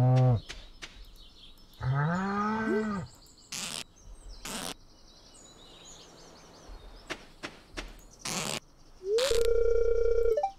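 Cows on a farm in the video game Stardew Valley give several drawn-out mooing calls, separated by sharp clicks and short game sound effects, with no voices.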